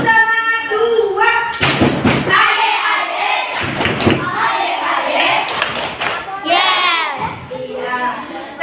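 Students in a classroom perform a second rhythmic spirit clap, sharp bursts of clapping and thumps punctuating loud children's chanting and the teacher's voice, repeating in a regular pattern.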